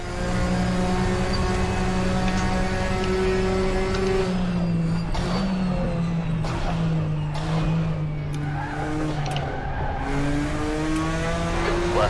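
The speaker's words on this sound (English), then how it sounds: "I hear the front left tyre squealing" A touring car's front left tyre squeals in a sim racing game at Road America, a sustained rising and falling screech riding over the steady engine drone, with a few sharp squeal bursts in the middle.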